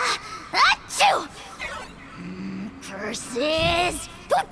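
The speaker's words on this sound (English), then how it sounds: "Achoo!" A game character sneezes once in a stylized ceremony scene in Genshin Impact, a sharp burst set among other character voices and gasps.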